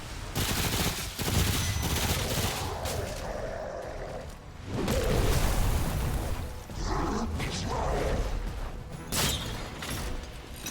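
Loud bursts of rapid gunfire from the video game Remnant: From the Ashes come in repeated volleys with short pauses between them, close and dominant throughout.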